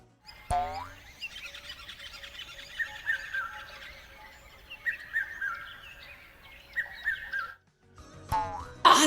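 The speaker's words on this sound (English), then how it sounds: "Now we're going to hear birds singing. It's such a lovely sound." Birds sing in a lively mix of chirps, trills and whistled phrases, close and clear, with a short pause before a final rising call.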